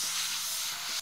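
A short, steady spray hiss in the video game Who's Your Daddy, one continuous burst lasting about a second before cutting off sharply.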